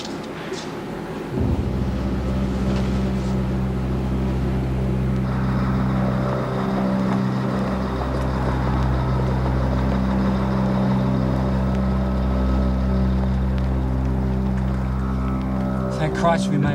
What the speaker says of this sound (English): You better cut the engine.